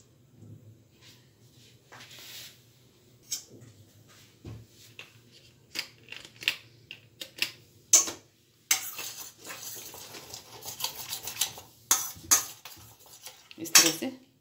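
A utensil stirs a cream mixture in a pan for chocolate mousse, making irregular scrapes and metallic clinks close by. The taps grow more frequent toward the end, with no voices.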